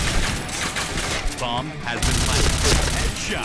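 A Point Blank video game shootout produces rapid, continuous gunfire, loud and close, with bursts overlapping throughout and no pause.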